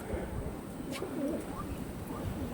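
Soft, low pigeon coos murmuring close by, layered over a faint background hum and a few distant chirps.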